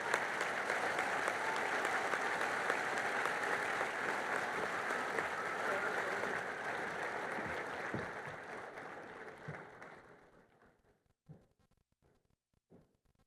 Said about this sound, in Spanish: Les pido nuevamente un aplauso para nuestros 3 testimonios de vida.